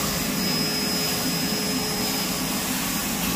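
A Bissell Bark Bath pulls water off a husky's coat with loud, continuous suction, a steady whooshing vacuum roar with no breaks and no talking.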